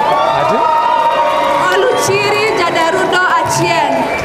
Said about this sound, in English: Oluchiri, let us clap for her